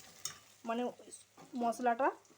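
Ginger, garlic and onion frying with spices in a pan for a home-style chicken curry, with a soft sizzle under two short bursts of spatula stirring and scraping.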